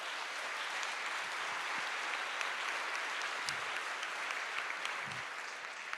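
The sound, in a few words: applause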